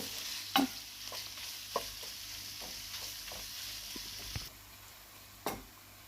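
Minced meat filling with tomato paste for Turkish pide is stirred in a pan, a quiet soft sizzle broken by a few spoon knocks and scrapes against the pan, with no talking.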